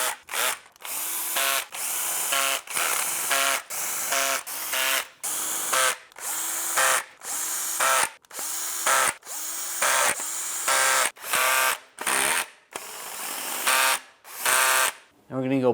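A power tool tightens oil pan bolts on a 1998-2010 Volkswagen Beetle in a steady series of short whirring bursts separated by brief pauses, loud and close, with some talk alongside.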